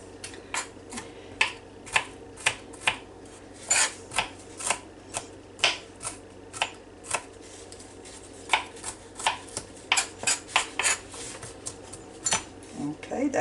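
Onions chopped on a board for tuna salad: a steady series of sharp knife taps, close and fairly quiet, quickening into faster clusters toward the end.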